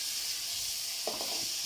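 Ginger garlic paste sautéing in a pan for pav bhaji gives a steady, close sizzle with a brief stirring scrape near the end.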